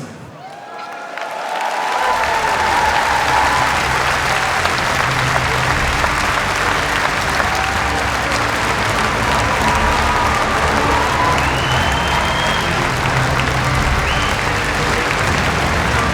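Loud, sustained applause from a large crowd at an honours ceremony fills the space after a brief quiet start, steady and dense throughout with a few scattered cheers.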